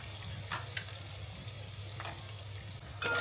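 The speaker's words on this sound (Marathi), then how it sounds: "तर अशा पद्धतीने थोडा थोडा टाकून आपण सर्वच डिंक छान तळून घेऊया" Edible gum (dink) frying in hot oil for methi laddu, a quiet steady sizzle with a low hum beneath and a few light clinks and stirs scattered throughout, close but soft.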